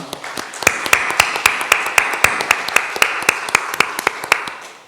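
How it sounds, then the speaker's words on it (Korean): A church congregation claps in thanks during a Sunday service, a bright, fairly regular run of sharp claps in quick succession, loud and close, holding a steady rhythm for several seconds with little else beneath it. "이들을 위해서 감사의 박수 한번 하겠습니다"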